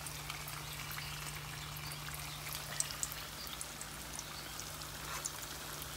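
Flour-coated chicken pieces frying in hot oil over a low-to-medium flame, giving a steady, dense sizzle and crackle with scattered small pops and a faint low hum underneath, no voices.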